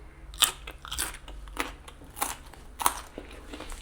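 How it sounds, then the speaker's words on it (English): A raw carrot is bitten and chewed up close, a handful of crisp crunches spaced about a second apart over quiet room tone. "Carrot ASMR."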